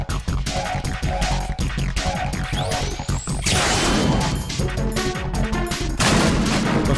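Rapid gunfire from the video game Metal Gear Solid 2, dense bursts of shots and crashing impacts throughout, growing louder and more chaotic in the second half.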